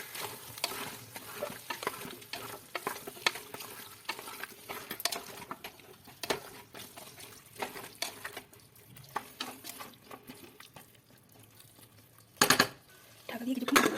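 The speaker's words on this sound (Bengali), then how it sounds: "মশলাগুলোকে ভালো করে মিশিয়ে দেবো।" A spoon stirs chicken with potatoes, turmeric and Kashmiri chilli powder in a pan for a stew, with quiet scraping and clinks against the metal, a faint sizzle, and a few sharper knocks toward the end.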